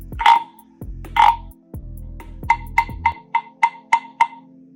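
A croaking frog toy gives two long, loud rasping croaks, then a quick run of seven short croaks in an even rhythm, close and on its own.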